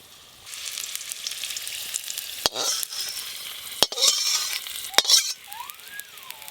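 Whole cumin seeds, dried chillies and garlic sizzle and crackle in hot oil in a wok, a steady close fry broken by a few sharp clinks of a utensil against the pan, with no talking.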